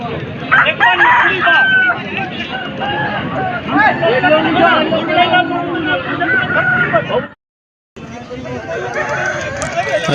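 A rooster, a fighting cock, crows loudly over a busy crowd of chatter and clucking poultry at a chicken market, then the noise briefly cuts out before the market hubbub resumes.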